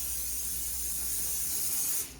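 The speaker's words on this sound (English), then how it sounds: "Spray my cooking pan down." A steady, close hiss of cooking oil spray onto a cooking pan lasting about two seconds, then cutting off abruptly.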